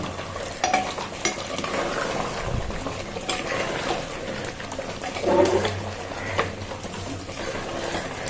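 Mutton and potatoes are stirred in a cooking pot, giving a steady scraping and clinking of utensil against metal over a soft sizzle, with occasional louder knocks.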